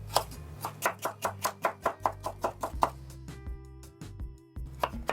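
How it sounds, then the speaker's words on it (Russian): Quick, regular knife strikes on a board as a celery stalk is cut into julienne strips, about a dozen close, crisp chops in a steady run, then a pause and a few scattered knocks, no talking. "Также соломкой режу стебель сельдерея."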